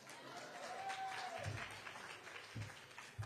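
An audience at a Modeling & Simulation Hall of Fame ceremony applauds for a former inductee; the clapping is soft and distant, with a thin whistle-like tone and a few low thumps mixed in.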